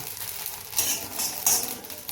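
Soaked, washed rice grains roasting in a pan for homemade sambar powder, giving a steady faint crackle with two louder bursts of popping and sizzle, no talking.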